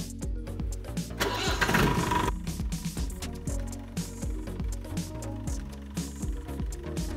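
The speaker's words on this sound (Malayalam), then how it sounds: "ഈ ഒരു വേരിയൻ്റ് വാഹനങ്ങളുടെ എൻജിൻ സൗണ്ട് നല്ല ക്ലിയർ ആയിട്ടുള്ള ഒരു അടിപൊളി സൗണ്ടാണ്." A 1997 Mahindra Jeep CL 500 MDI diesel engine cranks and catches with a loud, rough burst, then settles into a close, steady clattering idle.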